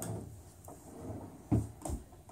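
A drawer in a Seattle hotel room slides and thumps shut, a few soft scrapes followed by two brief knocks, fairly close and quiet.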